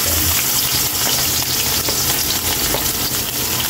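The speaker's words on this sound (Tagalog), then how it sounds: "Unahin mo natin pagigisa ng ating bawang." Garlic sautés in oil in a clean wok, giving a loud, steady, dense sizzle with no pauses.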